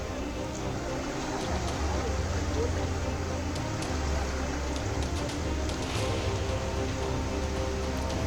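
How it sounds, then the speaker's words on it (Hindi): Heavy monsoon rain falls on flooded Mumbai streets as a dense, constant hiss that stays loud throughout, with voices faint in the background. "मुंबई में सुबह से जोरदार बारिश हो रही है।"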